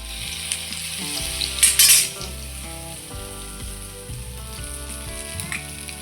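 Medu vada sizzling in hot oil keeps up a continuous crackling fry, with a sudden louder burst of spitting and a few light clinks of a utensil against the pan partway through.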